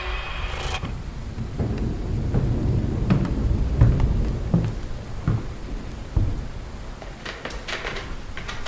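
A thunderstorm in a period drama, with steady rain pattering and several rolls and cracks of thunder rising and fading over a constant wet hiss.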